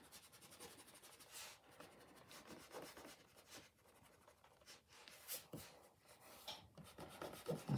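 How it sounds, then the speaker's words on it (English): A rubber eraser scrubs pencil lines off paper on a drawing of a castle, in irregular close rasping strokes with brief pauses and no talking. "we can rub out these lines of the castle."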